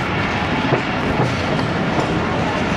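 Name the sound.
train arriving at Qila Sheikhupura Junction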